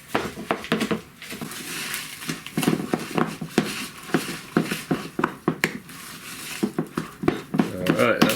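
Muesli being mixed by hand into soda bread dough, a run of irregular close scraping and knocking strokes against a bowl, with some faint talk in the background.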